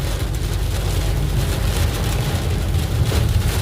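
Heavy rain beating down on a vehicle during a storm, with a dense, continuous hiss and low rumble, loud and close throughout, no talk.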